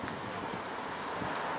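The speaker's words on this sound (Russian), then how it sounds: "Теплый такой ветер." Warm wind blows outdoors during a city walk near a shopping mall, a steady broadband rushing buffet against the microphone that barely varies in level over its short span.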